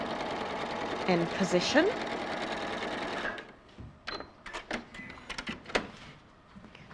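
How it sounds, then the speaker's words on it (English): A sewing machine understitching the seam allowances along a pocket edge: a short, steady mechanical whirr of stitching, then softer handling clicks and rustles, with someone speaking briefly. "understitching is just a row of ordinary stitching that holds your seam allowances"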